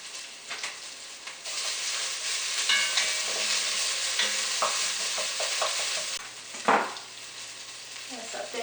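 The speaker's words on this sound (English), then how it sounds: "We sauteed the yellow curry base a little bit, and then we put some garlic, fresh garlic and ginger" Fresh garlic and ginger sautéing in a yellow curry base for a Vietnamese shrimp and tofu curry, a steady close sizzle with spoon stirring and scraping throughout, plus a sharper clatter near the end.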